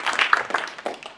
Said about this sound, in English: why don't we first give a round of applause